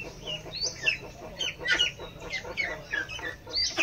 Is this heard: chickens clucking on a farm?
yes